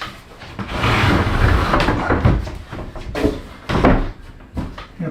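A wooden interior door is swung and pushed into its freshly trimmed jamb in a home addition, producing a series of close knocks, bumps and scraping thuds at irregular intervals.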